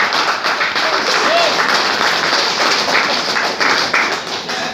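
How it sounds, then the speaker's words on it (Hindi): Audience applause fills a training-program hall, a dense, steady wash of clapping that stays loud and unbroken for several seconds, with occasional voices mixed into the crowd. "ताली नहीं बजा रहे हो क्या?"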